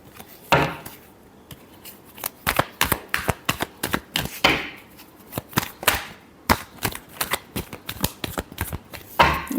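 Tarot cards shuffled by hand in quick bursts of crisp riffling and slapping, close and fairly loud, with short pauses between rapid clusters of card snaps.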